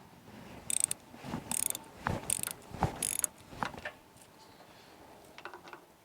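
A wrench turns 7/16 bolts counterclockwise on the Nikki carburetor of a Briggs & Stratton opposed-twin engine, giving four crisp ratcheting bursts close by, then lighter metallic clicks and taps.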